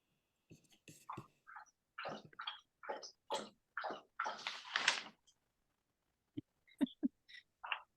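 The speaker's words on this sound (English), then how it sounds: "That was my dog drinking water." A dog lapping water indoors, heard as a run of wet, rhythmic slurps followed by a few sharp isolated laps, fairly quiet in the background of a community meeting call.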